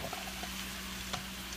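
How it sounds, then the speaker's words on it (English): Faint, steady sizzling of onions frying in a pan for crawfish étouffée, a soft continuous hiss with a few small pops, no voices. "here goes the onions. Ooh, you hear that sizzle, folks?"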